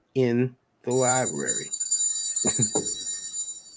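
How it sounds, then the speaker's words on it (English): A phone ringtone sounds during a live broadcast: a steady, bright electronic ringing that keeps going under a person speaking. "Is that your phone? Guess what? That's my phone."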